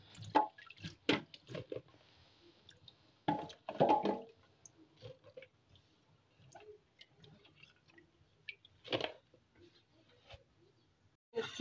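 Okra being washed by hand in a bowl of water gives scattered splashes, drips and squishy handling sounds. The bursts are irregular with quiet gaps between them and a faint background.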